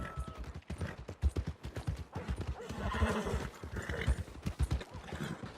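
Horse whinnying over repeated clip-clop of hooves in Red Dead Redemption 2, the hoofbeats loud, close and rhythmic with a neigh rising midway.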